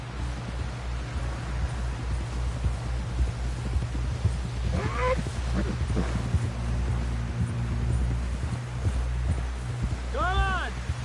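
Horse hooves clip-clop at a gallop in the Red Dead Redemption 2 video game, a steady rhythmic drumming under continuous game music and ambient noise, with characters talking over it.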